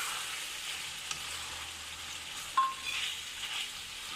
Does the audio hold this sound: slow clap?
no